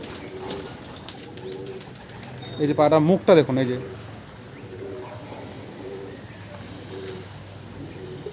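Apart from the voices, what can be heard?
Kaldum pigeon cooing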